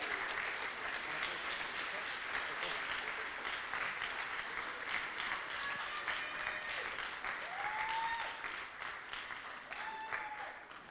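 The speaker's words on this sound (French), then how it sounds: "On peut l'applaudir." Audience applause at a cosplay contest at the Swiss Fantasy Show, a sustained wash of clapping from a hall crowd, fairly distant and even throughout, with a few faint voices and whistles mixed in.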